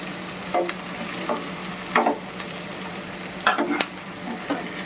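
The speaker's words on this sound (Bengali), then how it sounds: "দেখো পেঁয়াজ, লঙ্কা, কাজু এগুলো ফ্রাই হয়ে গেছে, এবার তুলে নেব।" Onion, green chili and cashews frying in hot oil, a low steady sizzle punctuated by several brief scraping stirs of a spatula at uneven intervals, close and fairly quiet, with no talk.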